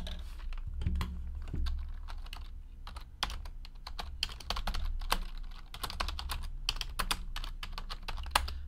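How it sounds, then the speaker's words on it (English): Rapid typing on a computer keyboard at a desk, a quiet, steady stream of light key clicks with uneven rhythm, close by and without any voices. "Let's type in the hits."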